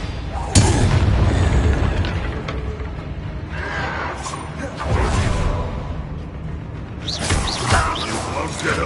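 In a Hogwarts Legacy spell duel, a Confringo fire spell explodes with a loud booming blast, then heavy rumbling bursts and whooshes of magic follow, dense and close with battle effects throughout.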